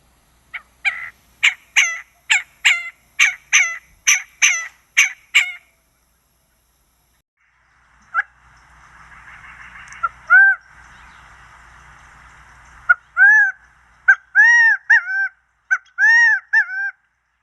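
Quail calls outdoors in Arizona, a quick series of sharp clucking notes, a pause, a soft rushing sound, then several loud, clear rising whistled calls.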